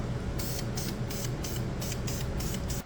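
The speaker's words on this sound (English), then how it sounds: "deadly with a spray can. That's Ford semi-gloss black." An aerosol can of Ford semi-gloss black spray paint hisses in about eight short, rhythmic bursts, loud and close, over a steady low hum.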